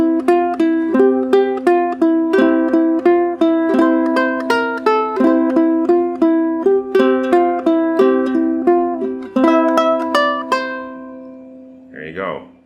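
Ukulele plucking an intro riff, a steady stream of bright picked notes repeating the same figure, close and clear with no talking, ending on a brief sliding note.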